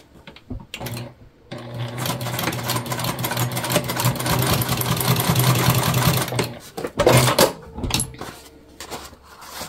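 A sewing machine stitches a Dayna Pack bag in a long continuous run, with short bursts before and after and clunks as the fabric is handled.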